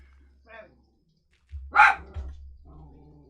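A small dachshund lets out a short bark, then a louder sharp bark followed by a trailing whine-like yelp, close by with a low hum underneath.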